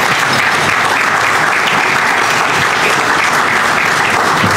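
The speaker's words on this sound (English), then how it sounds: "So you deserve a huge round of applause." An audience at a tourism summit gives sustained, loud, even applause, a dense wash of clapping filling the whole stretch with no talk.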